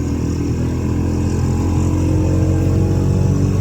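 Constant loud engine drone with road rumble from inside a moving auto rickshaw, steady throughout with no pauses.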